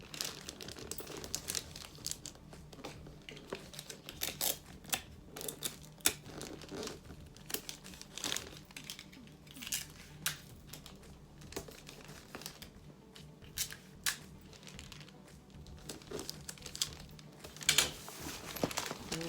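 Gift wrapping paper is folded, creased and crinkled by hand for a quick gift bag, giving a continuous close rustle with frequent sharper crackles and creasing snaps throughout.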